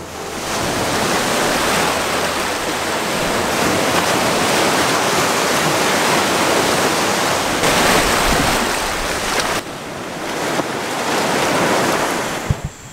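Waves wash onto a beach on Pelee Island, a loud, steady roar of surf mixed with wind buffeting the microphone, continuous throughout with no talk.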